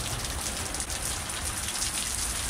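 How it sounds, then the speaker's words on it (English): Heavy storm rain blows sideways and pelts a boat deck, a dense, steady hiss of drops striking surfaces close by with no voices. "And it's raining sideways."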